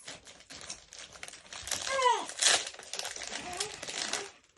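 Plastic biscuit bag being torn open and crinkled, a few sharp rustles and crackles amid quiet talk.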